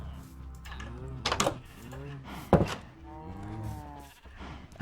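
A goat in the Minecraft video game, kept in a pen on a farm, gives a few wavering bleats over a steady background, with a sharper click-like sound partway through.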